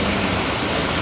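The Taywanak river in Barangay Taywanak flowing over its shallow bed, a steady close-up rush of moving water, loud and unbroken through the brief moment with no voices.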